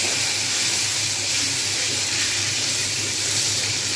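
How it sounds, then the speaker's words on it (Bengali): A pan of potol (pointed gourd) curry with mustard and poppy seed paste hisses steadily over a medium-high flame, a loud, unbroken close-up sizzle and steam rush with no talking. "এবার আমি ঢাকনাটা খুলবো ঢাকনাটা খুলে একটু নেড়ে দেবো"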